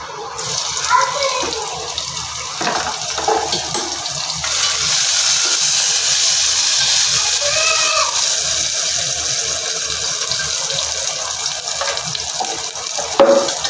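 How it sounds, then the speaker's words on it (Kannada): Mustard seeds splutter and crackle in hot oil while being tempered for a curd-based sambar, a dense, steady sizzle with bright crackling running close and loud throughout, rising slightly midway, with no talking. "ಸಾಸಿವೆ ಚಿಟ್ಲಿತಾ ಇದೆ"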